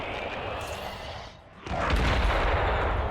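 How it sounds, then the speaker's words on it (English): A ship bursts apart close by in the space game Worbital: a brief lull, then a sudden loud explosive roar that rumbles on steadily to the end. "he is exploding right next to me!"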